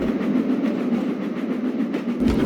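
A train of trucks rolls downhill with a steady rumbling hum and rhythmic rail clatter, continuous at moderate loudness with a slight surge near the end.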